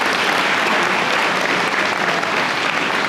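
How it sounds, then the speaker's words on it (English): A crowd at a school athletics awards ceremony claps in a thick, even roar of hands, steady and loud throughout a few seconds, no speech on top. "So please a round of applause."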